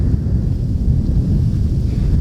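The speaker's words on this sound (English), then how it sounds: "But it's quite windy today." Steady low rumbling buffet of cold wind hitting a microphone fitted with a windsock, outdoors at a cemetery during lake-effect snow, continuous and loud throughout with no other sounds.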